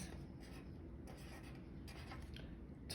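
Pencil or pen writing on paper as a report draft is written, a steady soft scratching that continues with small pauses, close and quiet over a low room hum, with no talking.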